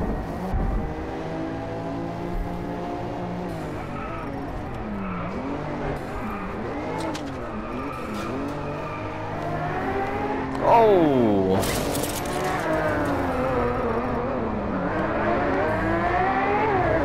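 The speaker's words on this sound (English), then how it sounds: "It's a very drifty car." A race car in the Driveclub VR racing game drifts through corners, its engine revving and swooping up and down in pitch, loud and close, with a sharp tire squeal partway through and continuous engine roar throughout.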